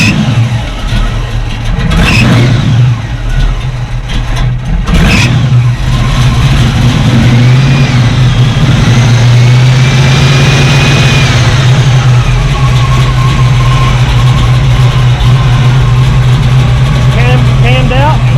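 The engine of a 1958 Willys runs loud and close, with a couple of revs early on, then settling into a steady, throaty idle with a rough mechanical rumble, while people talk over it.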